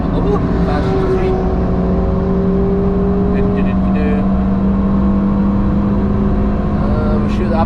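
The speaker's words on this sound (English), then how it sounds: "We should upshift, but we're gonna be redlining." Toyota Yaris T Sport engine held high near redline on the Nürburgring, a loud, steady in-cabin drone with sustained engine tones throughout, while voices talk over it.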